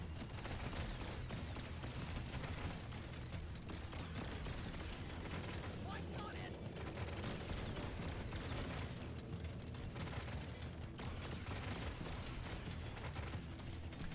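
Smart rifle gunfire in the Deep Rock Galactic: Survivor video game, a dense continuous barrage of shots and impacts packed with game effects, with no clear pauses.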